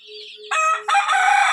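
A large farm rooster lets out a loud crow close by, starting after a short quiet lead-in and holding a strained, sustained final note, with no voices present.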